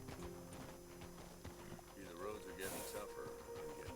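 Horse hooves clip-clop in Red Dead Redemption 2, soft irregular footfalls mixed with game sounds and low tones, while a voice talks over them.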